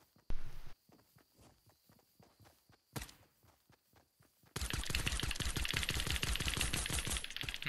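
Gunfire in Fortnite aimed at a tree: scattered single shots and short bursts, then a dense, loud, continuous stream of rapid automatic fire through the last few seconds.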